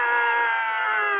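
A single human scream is held as one loud, steady, high-pitched cry for just over a second with nothing else audible.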